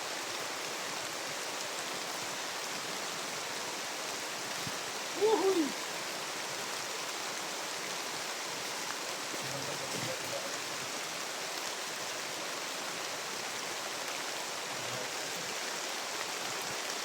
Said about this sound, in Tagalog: Ulan init guys.